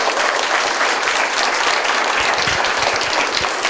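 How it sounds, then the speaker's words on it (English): An audience applauding the mayor at a 2013 Move Mayor kickoff event, a dense, steady burst of clapping from a crowd that holds at full strength throughout. "give him a round of applause"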